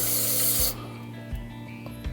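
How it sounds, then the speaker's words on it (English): A close, hissing aerosol spray burst of solvent cleaner into the intake of a BMW B58 engine during valve cleaning, under a second long, followed by faint rubbing and scraping sounds. "Find out when we spray some solvent in there."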